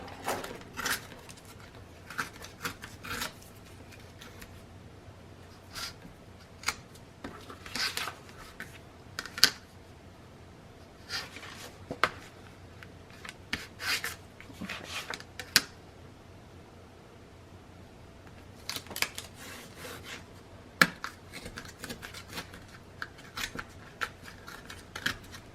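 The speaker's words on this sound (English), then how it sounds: "And then I will rip the top and the bottom." Journal pages of printer paper are torn by hand across the top and bottom edges, heard as scattered short, quiet rips and crinkles with pauses between them.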